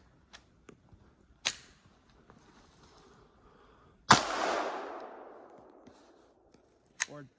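Kel-Tec PMR-30 pistol with an MCarbo magazine fired live: a few sharp cracks, with one loud report that rings out and decays slowly, and faint handling clicks in between.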